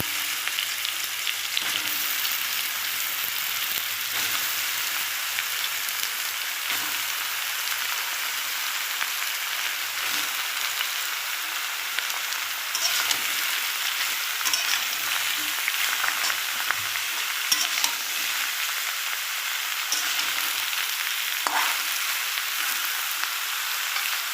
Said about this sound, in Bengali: এবার আমি লাউটা ঢেলে দেবো।